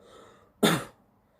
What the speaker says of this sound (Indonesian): Saya lagi kurang enak badan nih guys, lagi batuk-batuk.